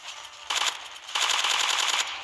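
Automatic gunfire from a zombie shooter video game, two loud sustained bursts of rapid shots with a short gap between them, close and with no talk over them.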